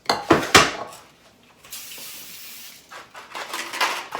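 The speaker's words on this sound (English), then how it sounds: "We're gonna lightly spray the pans." Metal takeout tin pans for baking clatter and knock, then a steady hissing spray runs for a couple of seconds, followed by more light tapping and spraying.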